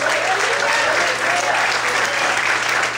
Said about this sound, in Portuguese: Você pode glorificar e aplaudir ao nome dEle nesta noite